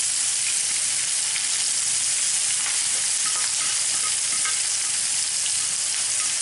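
Chopped onion frying in a pan for Bacalao a la Vizcaína, a steady dense sizzle with faint crackles that holds evenly throughout and has no speech over it.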